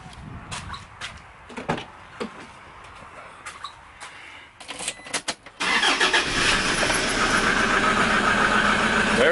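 A truck door clunks and rattles a few times, then the engine cranks and catches, settling into a loud, steady idle nearby.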